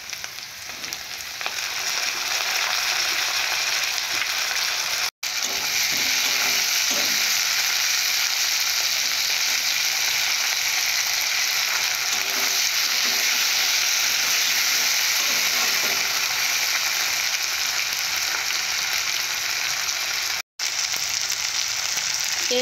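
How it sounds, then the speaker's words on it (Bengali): Onions and tomatoes frying in oil in a pan for a banana flower curry, a loud steady sizzle running throughout with occasional stirring scrapes and two brief cuts to silence. "পেঁয়াজগুলো ভালো করে ভেজে নেওয়ার পর টমেটো দেব।"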